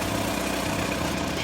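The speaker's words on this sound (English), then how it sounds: "Engine sounds like it's running good." A steady, low boat engine drone runs continuously at idle, with an even hum and vibration and no other sounds.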